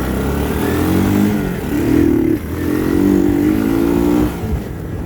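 A 1981 Honda 185S motorcycle pulls away after a cold start, its small single-cylinder engine revving up through two rising strains and easing between them, close and steady under heavy wind buffeting.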